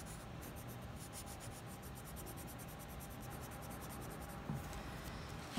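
A soft 4B graphite pencil shades in layers on drawing paper, a faint, steady scratchy rubbing that runs on with no voices.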